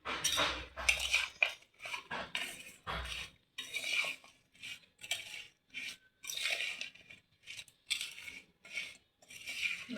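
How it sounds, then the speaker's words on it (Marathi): Raw mango pieces are mixed by hand into pickle masala in a bowl, making close rhythmic wet scraping and clinking strokes with short pauses between them, alone and fairly quiet. "त्या आपण आता थोड्या थोड्या करून मसाल्यात मिक्स करू"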